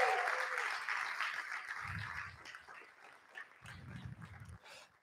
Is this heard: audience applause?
yes